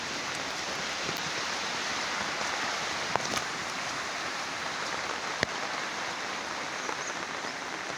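Heavy, steady rain pouring down as a dense continuous hiss, with floodwater from a river flowing into farm fields in the Konkan region, with no talking.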